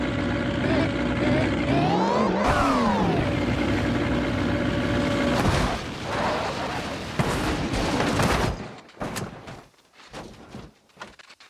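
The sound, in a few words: Chevrolet COPO Camaro accelerating in video game BeamNG Drive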